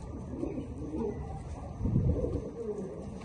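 Low, soft homing pigeon cooing in a steady murmur, swelling briefly louder midway, with faint background noise.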